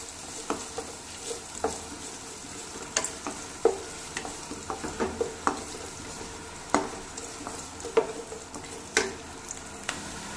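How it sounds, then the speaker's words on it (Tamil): Onions sauté until golden in a pan, giving a steady soft sizzle under repeated light clicks and scrapes from stirring, all fairly quiet and close. "வெங்காயம் வந்து பொன்னிறமாக வர அளவுக்கு நம்ம வதக்கி விட்டுக்கலாம்"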